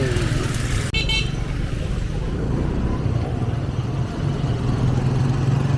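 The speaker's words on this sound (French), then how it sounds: "En moto." A motorcycle rides along a dusty road near Maroua in northern Cameroon. Its engine and the rush of wind roar loud and close the whole time, with a short horn-like toot near the start.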